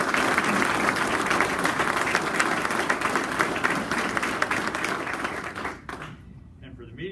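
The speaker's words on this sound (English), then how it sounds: "Let's give them all a round of applause" A crowd at a Missouri 9-1-1 bill signing breaks into loud, sustained applause, a thick continuous clatter of many hands that tapers off after about six seconds into quieter room sound.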